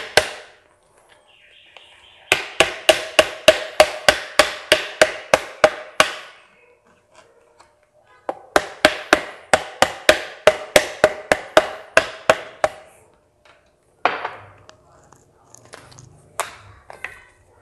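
Rapid bursts of sharp, evenly spaced knocks from a rubber hammer repeat in three runs with pauses between while assembling a small electric fan.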